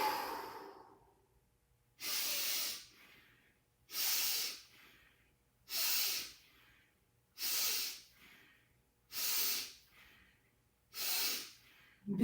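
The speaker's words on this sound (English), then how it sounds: "Breathe it all out and just be empty of air and relaxed" Deep, forceful breaths are pushed out through the mouth during a qigong exercise, in a steady rhythm of six or seven long exhalations spaced about two seconds apart, with near-silence between them.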